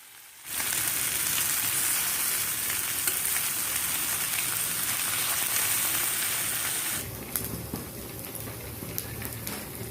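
Uliyari sea fish sizzles and crackles loudly in a hot pan, a dense, steady frying hiss that starts abruptly and eases slightly toward the end, with no voices.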